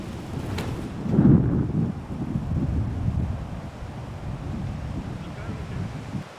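Strong hurricane wind across a disc golf course buffets the microphone in a low, rumbling roar, with a heavy gust early on and then a sustained blustery rush.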